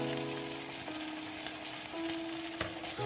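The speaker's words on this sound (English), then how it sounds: "Stir-fry the garlic for 30 seconds and mix the garlic with the beef" Minced garlic and beef stir-frying together in a pan for a beef and onion stir fry, a steady close sizzle with soft stirring scrapes and a low tonal hum underneath, no talking.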